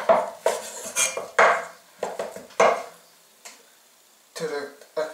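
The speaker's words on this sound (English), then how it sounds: "The beef has been boiled, and then we have to cut it into even pieces" A knife cuts boiled beef brisket into even pieces on a board, giving a series of close, irregular knocks and clunks with short pauses between them.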